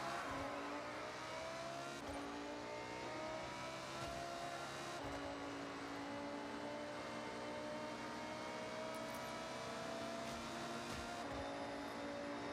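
A Pagani Zonda supercar races past in the video game Forza Horizon 6, its loud, steady engine roar rising and falling with revving among other fast cars, with no talking.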